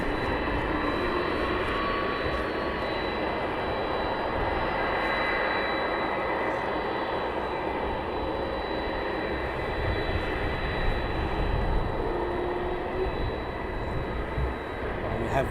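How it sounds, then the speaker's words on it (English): Star Air flight 76 departs at night from East Midlands Airport, its jet engines making a low, fairly distant rumble that holds steady and swells slightly without fading out. "Star Air 76 departing."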